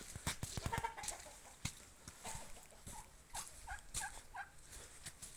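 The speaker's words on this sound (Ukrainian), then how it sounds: "Ось такий індик" A domestic turkey tom, offered for sale at a farmyard alongside hens and roosters, gives a few faint gobbling bursts among scattered clucks and rustles.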